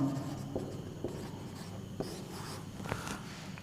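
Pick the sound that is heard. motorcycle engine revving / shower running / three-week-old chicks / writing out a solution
writing out a solution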